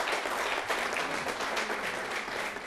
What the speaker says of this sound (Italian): adesso vorrei sentire Tiziano Palladino, a cui possiamo fare un bel applauso,